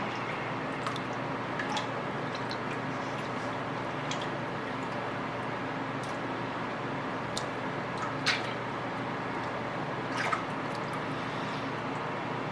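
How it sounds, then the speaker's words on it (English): Cheese curds for Jarlsberg are stirred gently through warm whey in a vat, making faint soft sloshing and squishy liquid movement with a few small drips, low and steady under a hiss of room noise. "we're going to be gently stirring"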